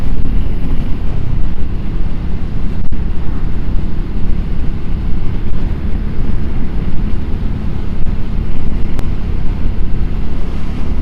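Triumph Scrambler 400X motorcycle on an evening ride along country lanes, heard as steady heavy wind roar buffeting the microphone with the engine buried beneath it, constant and loud throughout with no talk.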